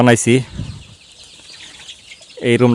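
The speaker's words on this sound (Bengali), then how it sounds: "বর্তমানে আমার খামারে 1500 মুরগি আছে" Chickens cluck loudly in short bursts at the start and end of a poultry shed holding about 1,500 birds, with a quieter stretch of shed noise in between.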